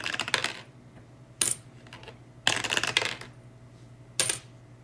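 Quarters drop and clatter in four distinct bursts, close and loud, with quiet gaps between them and no talking.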